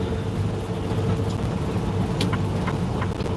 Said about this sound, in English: the truck is making noises again